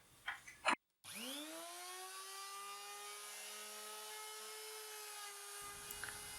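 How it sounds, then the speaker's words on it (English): A router mounted in a dishing jig spins up after a few knocks and whines steadily through a test cut in wood, loud and close, then winds down near the end. "I'm going to clamp this down, I'm going to give it another test cut, and we'll see what it looks like."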